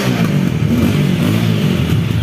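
A TVS Apache 200 4V motorcycle engine idles and revs steadily up close, a loud continuous mid-pitched drone with slight rises, running smoother after an engine oil, air filter and fuel additive service, no voices over it.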